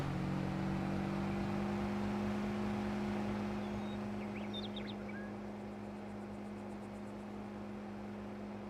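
A Porsche diesel tractor from Farming Simulator 22, pulling a sickle bar mower out of a shed, gives a steady low engine drone that fades slightly, with faint chirps above it.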